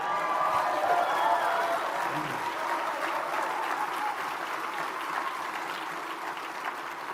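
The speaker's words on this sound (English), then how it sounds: "You ought to give yourselves a round of applause." A crowd at a motivational speech breaks into sustained applause, a thick steady wash of clapping from many hands that holds level for several seconds with a faint voice briefly under it.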